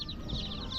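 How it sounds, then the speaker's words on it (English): Chickens cluck in a steady, busy background, several birds calling over one another at moderate distance with no talking. "Colourful chickens"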